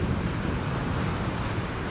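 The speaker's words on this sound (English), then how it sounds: "This storm's real." A thunderstorm in the video game Life Is Strange rumbles as a low, continuous roar of wind and rain, steady and fairly quiet with no distinct crashes or voices.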